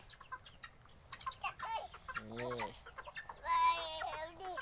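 Burmese fighting chickens at a breeding farm cluck and call near the microphone, several distinct wavering clucks and drawn-out calls spaced through the clip, while someone speaks quietly between them.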